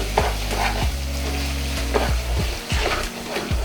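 Carrot halwa with sugar and grated khoya is stirred in a hot pan: a steady sizzle broken by repeated thick scraping strokes of the spoon every half second or so, close up with no voices.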